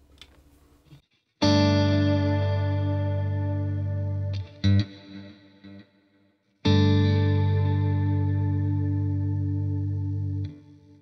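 An electric guitar played through a Neural DSP Quad Cortex with delay and reverb rings out in two long, loud sustained chords, each fading into shimmering echoes, with a brief plucked flourish between them and no talking.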